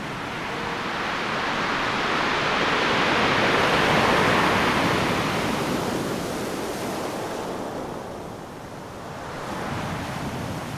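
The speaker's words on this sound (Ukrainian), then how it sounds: "Море підіймало шалені хвилі, які досі не бачили жителі міста Марії." Stormy sea near the city of Mariupol, with heavy waves crashing in a continuous roaring wash that swells and ebbs, loud and close with gusty wind noise.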